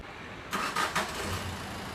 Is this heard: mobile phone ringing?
no